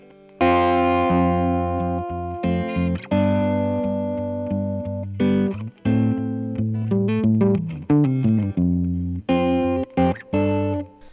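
An electric guitar plays chords and short riffs through a compressor, each strike sustaining evenly before fading, with brief pauses between phrases.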